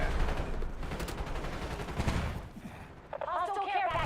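Video game gunfire aimed at a UAV crackles in rapid bursts for a couple of seconds, then fades as a voice speaks over the game sounds.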